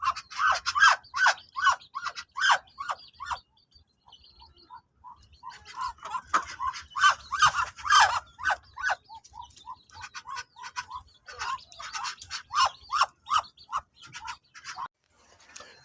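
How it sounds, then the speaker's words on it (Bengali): Thirty-five-day-old quail on a farm, giving sharp repeated chirps in quick bursts, several loud runs separated by short quiet gaps and softer scattered calls. "এইটা আমার ৩৫ দিনের কোয়েল পাখি"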